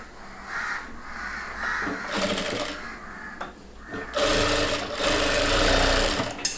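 Short runs of a sewing machine stitching chudidhar pant fabric, with quieter gaps between them and a longer, louder burst toward the end.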